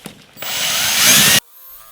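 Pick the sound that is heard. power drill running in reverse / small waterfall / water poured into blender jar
power drill running in reverse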